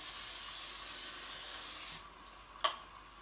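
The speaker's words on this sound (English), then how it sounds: "spray the pan you're going to be putting your stuff into with Pam" Pam cooking spray hisses steadily from the can onto a pan for about two seconds, close and fairly soft, then stops, followed by a single light knock.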